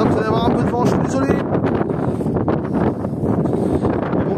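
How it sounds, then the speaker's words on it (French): Loud, rough wind buffets the microphone outdoors while someone talks in French over the gusting noise. "Alors là vous allez avoir un peu de vent, je suis désolé."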